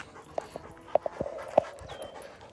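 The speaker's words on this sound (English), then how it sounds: "I have a random dog running at me." A wet, fluffy dog pants close by outdoors, with a few short whimpers and tag jingles over a low, steady background rumble.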